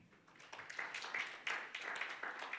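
An audience at an East African panel event on political and legal activism claps to welcome a speaker onto the stage, fairly faint, rhythmic bursts of clapping from a modest crowd with no talk over it.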